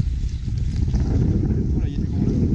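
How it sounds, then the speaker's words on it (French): Heavy wind buffets a microphone while someone is out cycling, a loud continuous low roar with no letup and with traffic faintly beneath it. "il y a du vent là"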